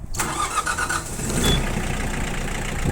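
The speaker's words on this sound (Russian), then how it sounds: "Давайте трактор запустим и посмотрим, как он будет работать" A cold Mitsubishi MT285 four-wheel-drive tractor's diesel engine cranks briefly after glow-plug warm-up, catches, and settles into a loud, steady rumbling idle close by.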